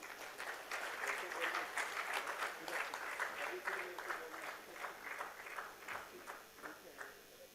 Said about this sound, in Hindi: आपकी तालियों की गड़गड़ाहट के बीच